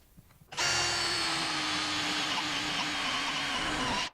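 A power drill with a Forstner bit starts abruptly and runs at a steady, loud whine for several seconds, boring a hole through a wooden cutting board before cutting off at the end.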